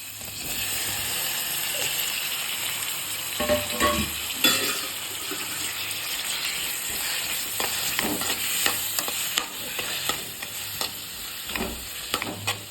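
Onion, turmeric and chopped tomato fry in a pan with a loud, continuous sizzle, broken by repeated scraping and clacking strokes of a spoon stirring through the mixture.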